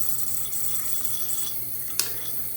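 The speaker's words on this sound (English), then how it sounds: "right there, there's a little bubbling and there's a mist spraying out." Steady hiss of water spraying and filling inside a toilet tank, with faint bubbling and a fine mist spraying out, and a brief click near the end.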